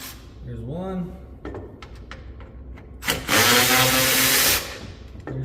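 A power drill on a 2020 RAM 1500 backs screws out of the front bumper plate, with short whirring bursts early, then a loud, steady spin of over a second, while someone talks nearby.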